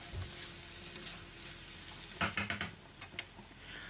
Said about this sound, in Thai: จากนั้นเราก็ผัดรวมกัน ทีเดียวเลยนะครับ ก็คลุก คลุกเคล้าให้เข้ากัน ทั่วกระทะเลยนะครับ